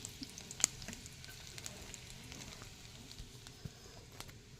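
Finely chopped ginger and garlic sizzling in hot oil in a pan, a faint steady crackle with occasional soft pops and a brief clink of a utensil, no voices.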